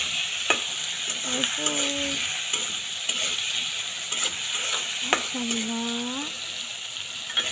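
Koi fish stirred in a frying pan with turmeric and chili powder, soft sizzling under scraping spatula strokes, with a few short vocal sounds over it.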